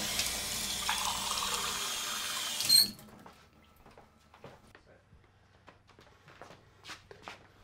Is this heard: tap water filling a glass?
yes